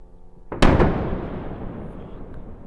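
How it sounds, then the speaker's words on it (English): A single loud explosion in Gaza City during wartime fighting strikes sharply and booms, then rumbles and fades slowly over a couple of seconds, heard alone without talk. "An explosion was heard in Gaza City on Monday."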